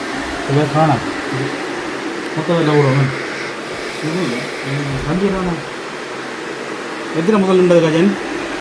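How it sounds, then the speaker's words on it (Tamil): A homemade air conditioner blower in a van runs with a steady, close whooshing roar throughout, while people talk over it. "குளிர் வருது இந்த ப்ளூவரை போட தான் தள்ளுது"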